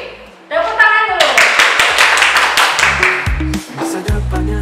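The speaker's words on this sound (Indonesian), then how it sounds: "Tepuk tangan dulu" Audience clapping hands at an Indonesian office evaluation event, with rhythmic group claps alongside music tones and voices, loud and close, with a brief pause before the clapping resumes.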